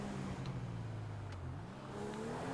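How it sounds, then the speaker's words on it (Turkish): Car engine in Grand Theft Auto V, droning and revving steadily with pitch rising and falling, loud and continuous throughout with no speech. "Ara gazı çek, ara gazı çek."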